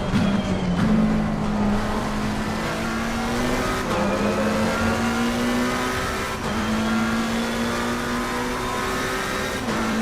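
Race cars at Bathurst in a VR racing game: a steady, loud engine drone with shifting revs and gear changes, the note rising and dipping as the cars run close together, with no talk.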